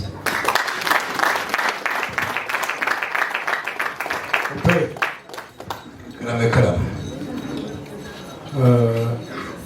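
Applause from an audience at a Rwandan traditional wedding ceremony: dense clapping fills the first half, then fades as voices take over.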